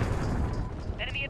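Cruise missile launch in Call of Duty: Modern Warfare (2019), a heavy rumbling roar and blast, loud and close, with a voice speaking through it.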